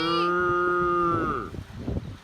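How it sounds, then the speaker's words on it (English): Highland cows in Scotland give a long, loud moo that rises and then trails off close by, followed by some lower grunting and shuffling noises, with no talking. "Hey, Highland cows!"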